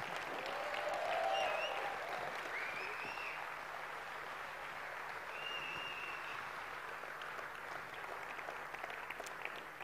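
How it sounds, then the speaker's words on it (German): An audience at an award ceremony for the national roofing and sheet-metal championship applauds in a long, even wash of clapping, heard from a little distance, with a few faint whistles over it. "Euer Applaus."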